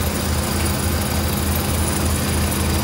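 Chevy V8 engine with a 7004-series part, idling steadily at close range, a continuous low rumble with a faint high whine over it and no speech.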